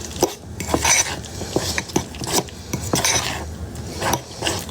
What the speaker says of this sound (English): Stir your chocolate chips again.